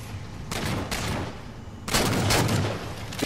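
Gunfire in a Halo video game match, several loud clustered shots in two bursts with a sharper volley near the end, over a low game background.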